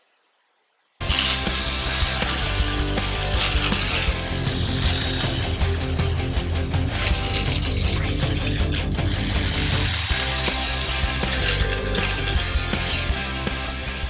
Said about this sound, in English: So I'm going to do some power carving